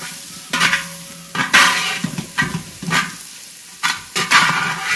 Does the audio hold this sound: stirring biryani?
yes